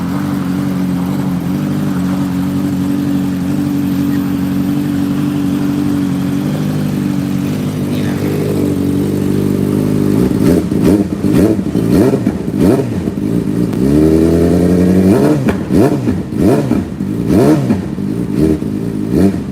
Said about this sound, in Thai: เสียงตัวรถนะครับคุณลูกค้าก็จะประมาณนี้เลยนะครับในส่วนของตัวท่อ N1 นะ